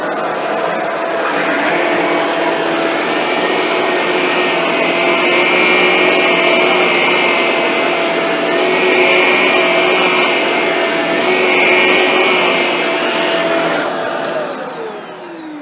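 A Shark Navigator Zero-M upright vacuum runs in carpet mode on low pile carpet along a baseboard, a loud steady whine and rush that swells slightly with back-and-forth strokes before winding down at the end.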